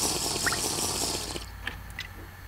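Water flowing and dripping in a Minecraft-like video game, a steady liquid wash for the first second or so that thins to a few scattered drips, close and fairly loud.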